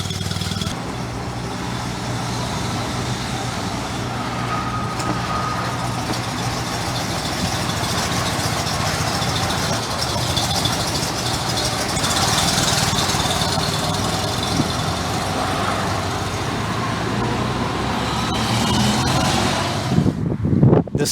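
A Fiat 126p with a high-performance exhaust idles loudly and steadily, a continuous throbbing engine note with slight rises and falls, close to the microphone and with no talking.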